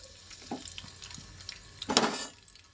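Chopped garlic dropped into hot oil in a kadai, giving a sudden crackling sizzle that flares up near the end of an otherwise quiet kitchen moment, with no talking.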